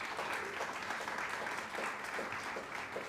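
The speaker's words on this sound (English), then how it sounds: "you have courage to give me an applause" Lecture audience at a Yale Latin American and Iberian studies event applauding, steady dense clapping filling the room at moderate loudness throughout.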